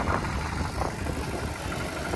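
A farm tractor engine runs steadily while carrying riders out to a swimming spot in the countryside, a continuous close mid-pitched rumble with no pauses.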